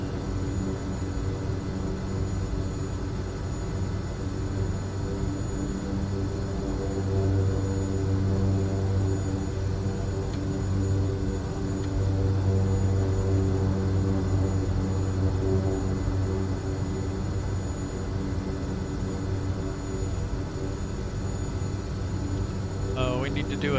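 A propeller aircraft taxiing in Microsoft Flight Simulator 2024 gives a steady, even engine drone with a constant tonal hum, holding on without a break.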